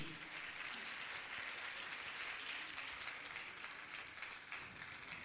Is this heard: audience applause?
yes